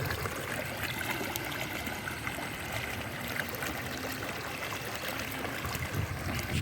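A small, clean stream near Kundrathur lake flows in a steady broadband rush, close and continuous, with no voices.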